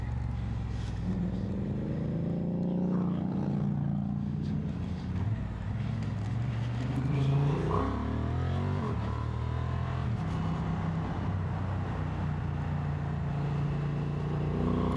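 Honda XL750 Transalp motorcycle engine running steadily while riding, a continuous close rumble with some shifting pitch and wind noise throughout.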